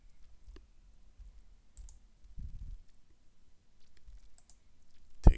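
Computer mouse clicks on a PC, a few sparse, faint, sharp taps in a quiet room, with one louder click at the very end.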